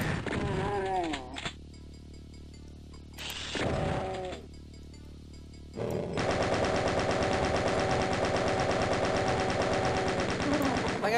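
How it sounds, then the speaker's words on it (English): Rapid machine gun fire in the Doom 1 video game: short bursts give way to a loud, sustained stream of closely spaced shots through the second half, with other game sounds between them. "I shoot them with the machine gun"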